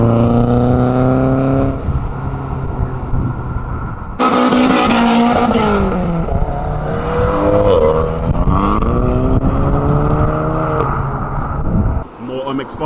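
A Mercedes C63 leaving the TRAX event at Silverstone accelerates loudly past at close range, its engine note rising and shifting through several gear changes before fading at the end.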